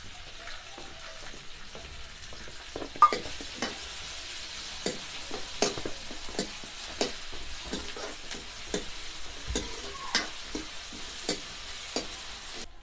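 Steady sizzling and crackling of onions frying in a pan, with repeated clinks and scrapes of a utensil stirring throughout, close and fairly quiet.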